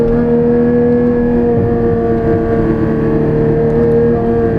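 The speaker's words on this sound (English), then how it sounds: "The valves are open on the Fabspeed GT450 race headers and exhaust." A 2016 Porsche 981 Cayman GT4 engine drones steadily and loudly through open-valve Fabspeed GT450 race headers and exhaust, a deep, throaty note holding a constant tone throughout without pauses.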